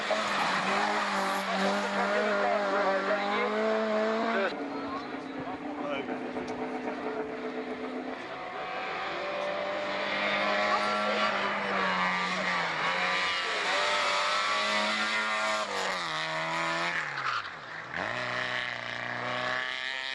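Opel rally cars race on a track, engines roaring and tires screeching loudly and continuously, with pitch sweeping up and down through gear changes and a brief dip before the noise surges again; a voice talks over the din.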